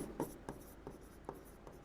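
A pen scratches across notebook paper in a quiet room, with short faint strokes repeating at a steady, unhurried rhythm and no talking.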